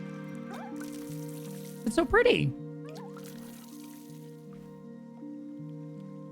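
Water from a watering can in the game Wanderstop gives a short burst of splashy, dripping pours near the middle, over soft game music, while a person speaks briefly.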